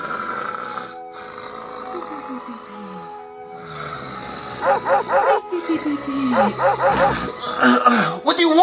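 A dog barks and yips repeatedly in short rhythmic bursts at a household birthday scene, loud and close, with a voice speaking around the barks.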